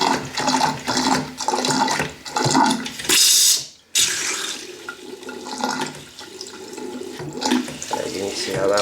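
Water gushes steadily from a faucet in a house with galvanized pipes, a close, rushing splash that briefly cuts off and then resumes.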